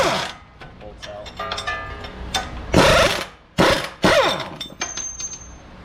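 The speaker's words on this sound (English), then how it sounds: "See if we can spin these bolts out." Power tool, likely an impact gun, spinning out the front strut bolts on a 2008 Dodge Avenger, heard as several loud, rattling bursts of a few seconds each, separated by short pauses.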